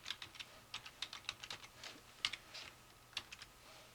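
Quiet, close typing on a computer keyboard, an uneven run of light key clicks with a few sharper taps and short pauses between bursts.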